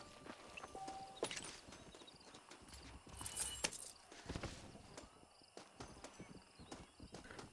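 A horse in the video game Red Dead Redemption 1 trots along with an even clip-clop of hooves and faint tack jingling, mid-loud and steady throughout.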